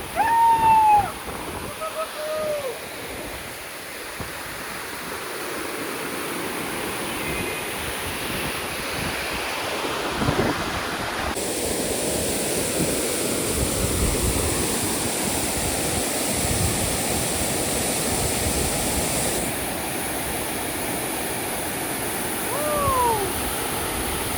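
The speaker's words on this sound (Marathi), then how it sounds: "हे बघा वॉटरफॉल जोरात" A powerful monsoon waterfall in the hills gives a steady broadband roar that carries on without pause for the whole stretch, with wind buffeting the microphone at times.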